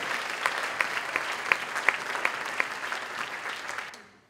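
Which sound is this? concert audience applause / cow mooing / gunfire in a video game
concert audience applause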